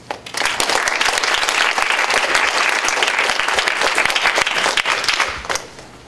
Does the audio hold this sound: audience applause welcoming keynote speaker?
yes